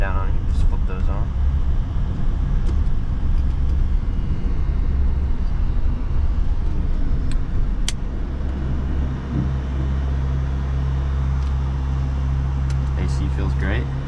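A Voltrix E Wagon electric golf cart drives along with a steady low rumble and road noise, loud and close from the seat, with air conditioning running and a few light knocks.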